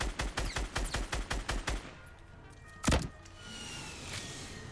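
A rapid burst of Fortnite gunfire, about a dozen sharp shots in quick rhythm, followed by a single heavy blast and quieter ambience.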